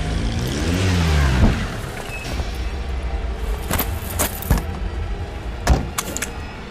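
A taxi car comes to a near stop and then pulls away, its engine rising and falling with a few sharp clunks like a door shutting, heard up close with no talk.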